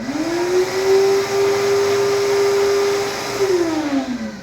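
An electric blender runs on its continuous-blend button, a loud steady motor whine that spins up, holds an even pitch for about three seconds, then winds down, with no talking.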